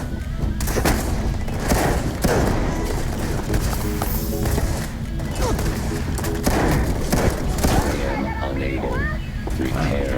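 Shotgun fire in the sci-fi video game Starfield: a rapid series of loud, sharp blasts and thuds packed into combat noise, with a voice speaking over the fighting.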